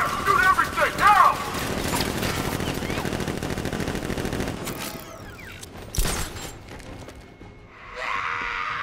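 Sustained machine-gun fire in the video game Batman: Arkham Knight, loud and rattling, then thinning to scattered shots and mechanical clanks, with shouted voices over parts of it.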